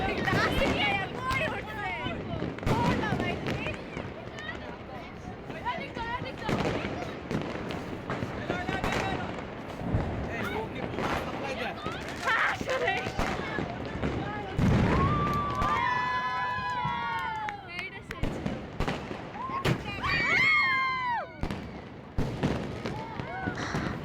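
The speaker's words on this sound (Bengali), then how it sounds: "আমাদের আশেপাশে এত বম করতেছিল" Firecrackers and fireworks burst repeatedly around a New Year's Eve gathering, with sharp bangs scattered throughout and whistling rises, mixed with constant chatter and voices from people nearby.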